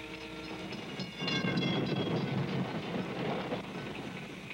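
A passenger train rolls past nearby with a steady, heavy rumble and rhythmic metallic clatter from the rails, growing slightly louder partway through.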